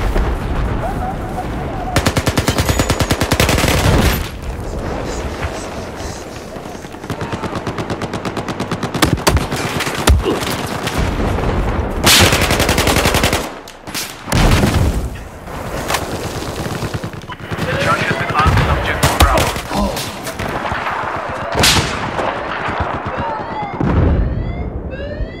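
Machine gun fire in the video game Battlefield 4, with long sustained bursts of rapid automatic shots, scattered explosions and heavy battlefield din, loud and close, while someone talks over parts of it.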